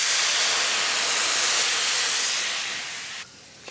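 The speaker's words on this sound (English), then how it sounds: "Now I'm adding a half cup or 125 mils of vegetable stock" Vegetable stock poured into a hot pan after searing salmon, producing a loud, steady hiss of steam that fades and then cuts off abruptly.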